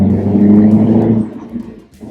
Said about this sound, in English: So you can hear the noise that is coming from the engine